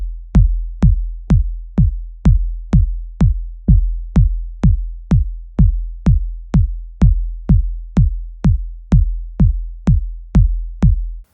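A layered electronic kick drum built from sub, main and high-passed kicks thumps alone in a steady, evenly spaced loop of about twenty punchy hits with short decaying low booms, close and loud.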